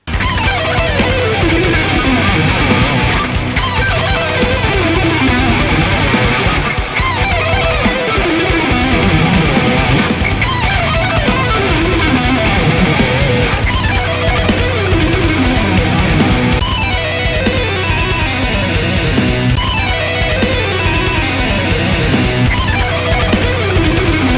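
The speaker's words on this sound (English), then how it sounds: "the attack on the strings and the little bits of string noise actually make it sound like it was played" A fast electric guitar lick repeats in rapid, continuous runs of notes, loud and dense, with bright string scrapes and pick attack throughout.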